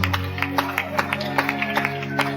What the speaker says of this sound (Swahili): chapia Yesu makofi